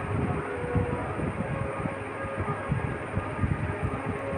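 A passing train heard as a steady, broad low rumble with rhythmic wheel clatter, fairly loud and continuous throughout, with no talking.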